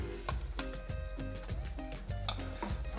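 Beans, egg and spices stirred together in a pot for bean, egg and cheese breakfast tacos, a utensil scraping and clinking in steady repeated strokes over a soft background sizzle, close and fairly loud with no talking.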